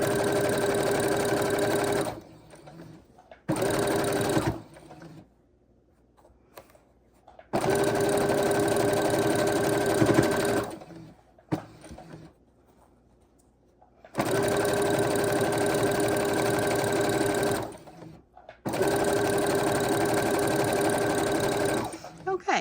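A sewing machine runs tight stitches along quilt seams of a three-fabric quilt, in several loud, sustained bursts separated by pauses where a person talks.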